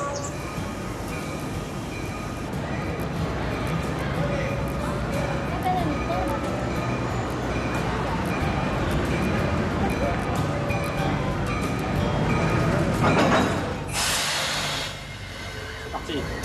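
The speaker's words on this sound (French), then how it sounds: "Ah, ça y est, voilà le train." A train pulls into a station in Bolivia with a loud, steady rumble and rolling clatter that fills the scene, closing with a sharp burst of hissing air near the end; people chat nearby.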